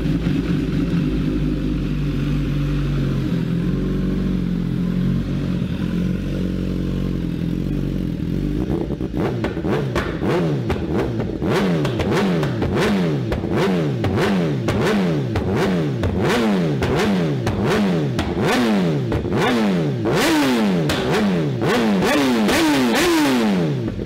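A customized 2019 BMW S1000 motorcycle with a sport exhaust idles with a low rumble for several seconds, then its engine is revved again and again in rapid, loud, rising and falling bursts.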